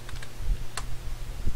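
A short burst of keystrokes on a computer keyboard as ipconfig is typed at a Windows command prompt, a few close, crisp clicks with no talking.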